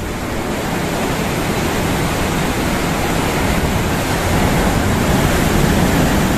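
Heavy, continuous roar of ocean surf on the south coast of Java, a broad wash of breaking waves that is loud and close, swelling slightly toward the end with no voices.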